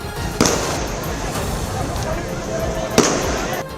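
Two sharp cracks of gunfire, a few seconds apart, ring out over a noisy crowd and street commotion during stone-throwing clashes with police.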